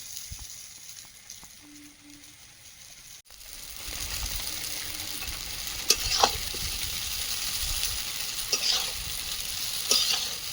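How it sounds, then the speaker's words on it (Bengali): Chow mein noodles hitting hot oil in a pan with green chillies, village-style chicken recipe; after a quiet start the sizzle jumps up and holds steady, with scraping stirs and clatters of the spatula. "এবার চাউমিনটা দিয়ে দেবো"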